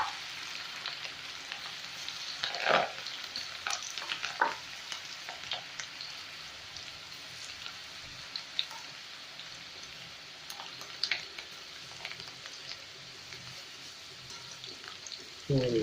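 Chicken pakoda pieces frying in hot oil, a steady close sizzle and crackle running throughout, with a few louder spatters and stirring clinks along the way.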